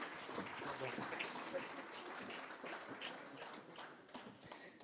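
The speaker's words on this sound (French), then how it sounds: "Merci de les applaudir" An audience applauds steadily at a French roundtable event on the green economy as panelists join the stage, dense clapping filling the room with scattered voices underneath.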